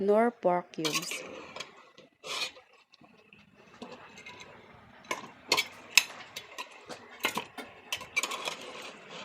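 A spoon scrapes and clinks against a metal pot of pork bones in irregular bursts, with some rattling and clattering.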